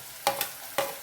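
Green chillies frying in a pan for a vegetarian cashew fry: a soft steady sizzle broken by two sharp, close stirring scrapes in about a second.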